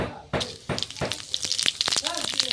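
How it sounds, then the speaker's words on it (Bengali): Bay leaf and white cumin hit hot mustard oil in a kadai while chicken is being prepared, giving a few sharp crackles and then a busy sizzle with light clinks as someone speaks. "আমার তেল গরম হয়ে গেছে আমি দিয়ে দিয়ে দেবো তেজপাতা সাদা জিরে"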